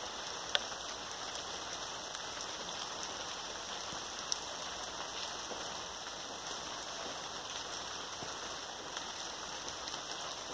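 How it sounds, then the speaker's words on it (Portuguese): Steady rain falling outdoors, a continuous even hiss of drops on surfaces with a few isolated louder drips, constant throughout with no voices. "Começou a chover."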